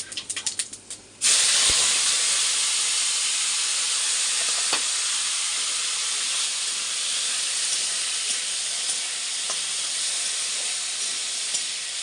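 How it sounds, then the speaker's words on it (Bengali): Potatoes fry in hot oil in a wok with five-spice seeds, giving a loud, steady sizzling hiss that bursts in after a second of lighter clatter and holds without pause, marked by a few faint clicks. "এখানে দেখো আলুটা অনেকটা ভাজা হয়ে গেছে।"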